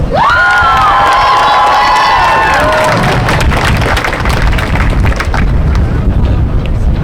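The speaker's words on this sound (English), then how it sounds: "Let's give her some applause." A crowd at a Māori-led climate justice rally bursts into loud cheering and applause, with high whoops and calls in the first few seconds, then sustained clapping and cheers.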